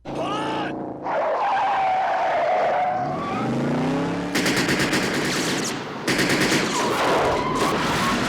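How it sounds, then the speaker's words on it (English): A car chase from the action film Cobra: engines roar and tires screech, then bursts of rapid gunfire crackle over the racing cars, loud and close with no talk. "In the middle of the car chase, Cobra does this."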